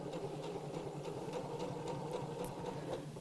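A sewing machine stitching a reverse appliqué heart outline on a mat, its steady rapid needle chatter running continuously and close throughout with no voices.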